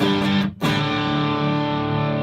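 Distorted electric guitar through a Headrush effects rig rings out as a sustained, harmonically dense chord, briefly cut by a short gap around the middle before ringing on loud and steady, with no talking.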